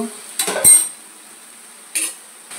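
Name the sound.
pot lid opened while cooking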